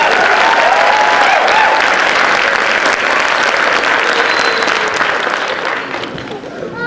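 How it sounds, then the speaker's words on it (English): Audience at a Christmas tree lighting ceremony applauding a Girl Scout choir, a dense burst of clapping from a crowd that holds strong, then gradually thins and fades toward the end. "Let's give them another round of applause."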